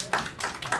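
Audience applause at a New York State Assembly hearing on specialized high schools, heard as a brief burst of a few close, sharp claps.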